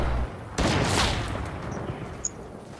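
Gunfire in Fortnite: a sharp, loud burst of shots erupts after a brief low rumble and rings out for about a second, then decays into a softer tail with a faint click near the end.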